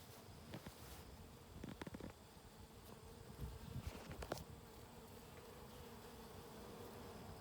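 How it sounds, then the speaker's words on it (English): Bees buzz steadily at close range on basil flowers in a garden, a soft continuous hum with occasional louder passes as insects fly near. "the bees are doing their fall feeding"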